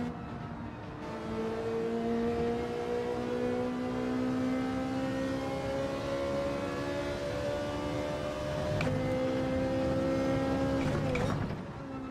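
Group 4 race car engines in Gran Turismo 7 on the Catalunya circuit, a sustained high whining drone that climbs slowly in pitch, then dips and rises as a car shifts, with no talk.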